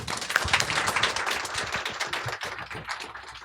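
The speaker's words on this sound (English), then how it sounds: "let's give a warm round of applause for our guests this evening" An evening book-event audience applauds the guest authors, a soft, steady wash of many hands clapping at moderate distance, alone without voices.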